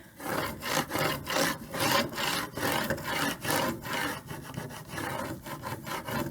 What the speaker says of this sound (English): I can smooth this design onto my wooden board. And I can use my scraper.